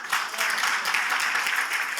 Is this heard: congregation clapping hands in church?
yes